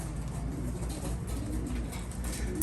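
Trenton racing pigeons coo softly in a cage, with low repeated throaty coos over a faint background hiss, close and quiet.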